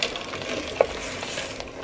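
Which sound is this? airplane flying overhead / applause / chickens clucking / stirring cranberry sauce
stirring cranberry sauce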